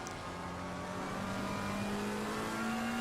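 McLaren race car engine in Assetto Corsa Competizione at the Hungaroring, a steady loud drone with rising pitch as it accelerates, heard alone without talk.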